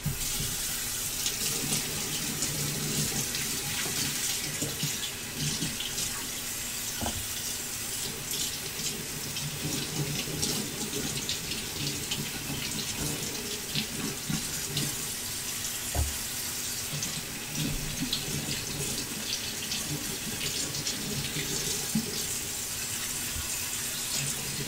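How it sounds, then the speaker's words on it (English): Carrots rinsed under a running kitchen tap in a sink while cooking, a steady close stream of water splashing for a long stretch, with faint background kitchen sounds and no talk. "Got carrots to rinse off here."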